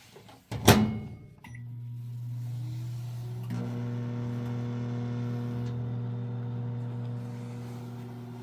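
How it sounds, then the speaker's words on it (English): A door clunks shut, then a basement microwave oven starts up with a steady low electric hum and whir that continues evenly. "Here's the basement microwave."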